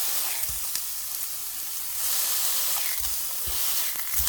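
A burger patty fries in a hot pan, giving a steady hiss with a few soft thumps as a spatula presses it down, heard close with no talking.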